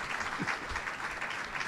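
A short, faint burst of crowd applause, a soft, steady patter of clapping heard from a distance.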